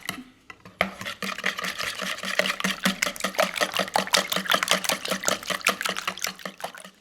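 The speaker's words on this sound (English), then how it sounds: "We're gonna go ahead and whisk them up" Eggs and heavy whipping cream are whisked in a bowl, with a rapid run of close, rhythmic clicks and splashes that start after a brief pause and keep going, no talking.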